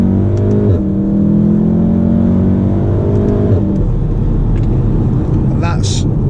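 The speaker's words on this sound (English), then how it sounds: "I'm going to put my foot down from second and just look at the speedo" A standard Volkswagen Golf R accelerates hard from second gear on a private road at night, engine note climbing steadily through a rising drone before an upshift, then continuing under road noise with someone talking.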